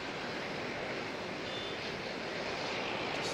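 A Qantas airliner at Auckland Airport in fog produces a broad, steady jet roar that holds loud and unbroken throughout.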